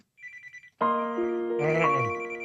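A phone ringtone for an incoming call plays in a radio studio, a short electronic chirp then a rich sustained synthetic melody with bright harmonic tones, loud and close with no voices.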